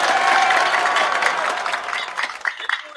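Audience applause fills the room steadily, then thins out into scattered individual claps as it fades.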